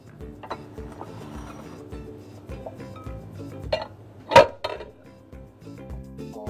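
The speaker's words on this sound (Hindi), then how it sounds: "चलिए मैं एक अदद मिक्सिंग का प्याला ले लेती हूँ, ताकि पहले हम फ्रूट को मिक्स कर लें" A large mixing bowl being picked up and set down, with metallic clinks and rattles and one loud clang, then a few lighter knocks.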